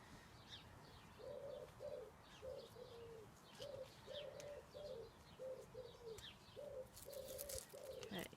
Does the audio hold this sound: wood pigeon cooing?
yes